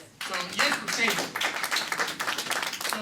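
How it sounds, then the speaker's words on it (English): Audience applause at a Ward 5 Democrats community meeting with the DC mayor, a burst of clapping from a room of people that starts abruptly and carries on steadily with scattered cheers or voices mixed in. "So that deserves a round of applause."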